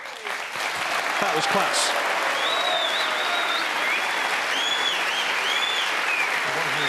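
Snooker crowd at the Tour Championship final applauding a shot, a loud sustained burst of clapping from a large audience, with a commentator talking over it.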